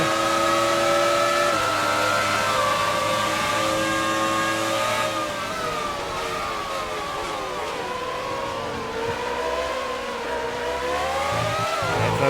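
F1 race cars from the F1 2019 video game, several engines screaming loud and continuous with rising and falling revs as cars accelerate and shift through gears, no talk over them.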